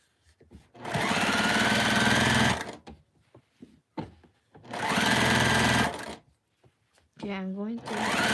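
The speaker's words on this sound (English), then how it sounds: "Do you like newer models of sewing machines or the older ones? This is the Juki 2010Q." A Juki 2010Q sewing machine runs in two loud, steady bursts of about two seconds each, with short pauses and small handling sounds between. A voice briefly speaks near the end.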